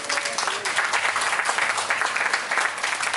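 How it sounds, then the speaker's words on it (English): A rally crowd at Farrington High School gives Maria a big round of applause, loud and dense clapping that holds steady throughout. "Big round of applause for Maria."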